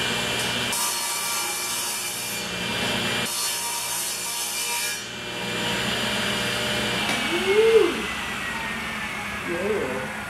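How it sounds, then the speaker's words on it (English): A power saw runs steadily against a wooden box, cutting a 1/8-inch groove along its sides, a continuous loud whirring rasp with brief drops in pitch as the blade moves through the oak. "I'm gonna cut just an 1/8-inch groove along the sides of this box."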